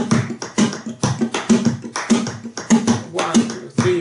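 Flamenco hand claps from the acompas.org metronome, crisp percussive palmas in a steady compás pattern with accented beats, close and dry, played alone without accompaniment.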